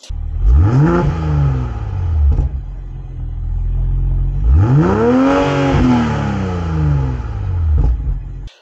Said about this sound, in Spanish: Vemos aquí este difusor tan deportivo con las dos salidas de escape que suena maravilloso.